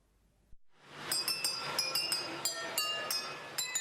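A German model train sets off a long melody on 2,840 wine glasses in a museum: after a soft thump, a bright run of clear glass chimes rings out in quick succession over a rolling rumble.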